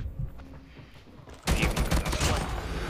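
The Oden gun in Call of Duty Mobile goes off with a sudden loud burst of shots, following a quieter stretch with faint sounds underneath.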